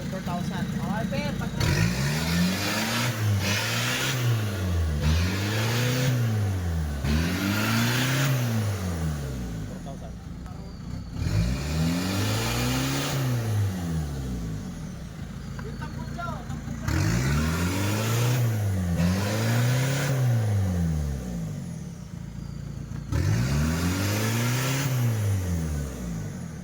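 An Isuzu Trooper engine revs repeatedly, each rise and fall of pitch sweeping up toward about 4,000 RPM in several bursts with short pauses, loud and close.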